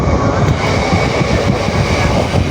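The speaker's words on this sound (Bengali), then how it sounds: "আমাদের ট্রেন জগদ্দল স্কিপ করবে" A Sealdah-Ranaghat local train runs at speed, heard from on board as a loud, continuous rumble and rattle of carriages on the rails, with no talking.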